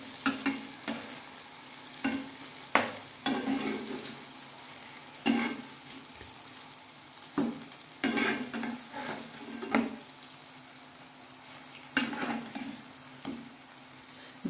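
Mutton keema tikiya kebabs fry in oil in a pan and are flipped, making a quiet, close sizzle broken by repeated sharp spatula scrapes and clinks against the pan.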